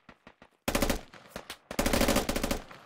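Machine gun fire in the military shooter game Squad: a few sharp single shots, then two long, loud automatic bursts separated by scattered shots, close and dominant, with no talking.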